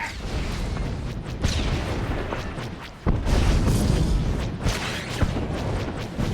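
Missile explosions in Star Wars: The Old Republic space combat: a loud, continuous barrage of booming blasts and bursts, with a heavy hit near the midpoint and more explosions rolling on after it.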